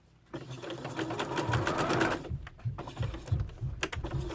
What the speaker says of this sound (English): we are going to stitch across this last corner